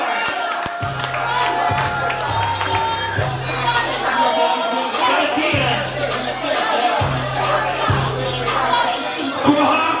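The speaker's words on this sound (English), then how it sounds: "Y'all give these ladies a round of applause." Crowd at a ballroom event in New York City cheering and applauding contestants, a dense continuous roar of voices and claps with a steady thumping music beat underneath.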